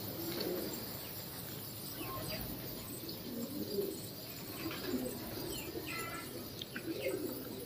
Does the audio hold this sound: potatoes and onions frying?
no